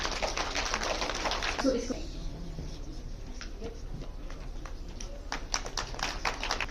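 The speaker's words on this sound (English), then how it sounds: "Please give them a huge round of applause" Audience applause at a school role play and folk dance competition as students come on stage, a steady patter of clapping with some sharper claps throughout, heard in a large noisy hall.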